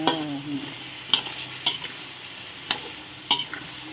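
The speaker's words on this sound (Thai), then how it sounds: "ผัดไปผัดมาให้มะเขือสุกครับหน่อย" Thai eggplant stir-fried in a pan, a gentle sizzle under a handful of sharp spatula scrapes and taps spaced about half a second apart, close by.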